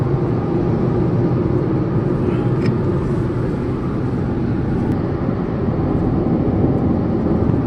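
A Tata Altroz XT petrol car with a three-cylinder engine cruises at highway speed, a steady broad drone of road and wind noise heard from inside the cabin, with no talking.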